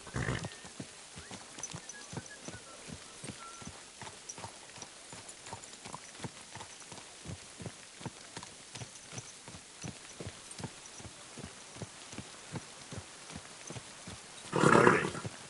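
A horse's hooves clip-clop steadily in Kingdom Come Deliverance 2, an even walking rhythm of close, distinct beats that runs the whole stretch, with a brief louder rush of noise near the end.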